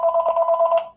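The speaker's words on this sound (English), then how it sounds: "Excuse me, a phone call." A telephone rings indoors with a loud, close, rapidly pulsing electronic trill lasting about a second, then cutting off.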